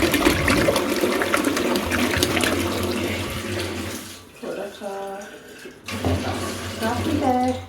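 Water gushes loudly from a tap at home, first as a strong steady rush, then in shorter bursts with background sounds between.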